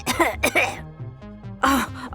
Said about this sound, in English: I've got this cough. It just won't go away.